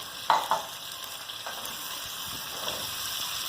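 Cabbage and potato fry in oil for a cabbage curry, with a steady soft sizzle and a couple of stirring scrapes near the start.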